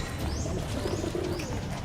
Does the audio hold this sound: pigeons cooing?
yes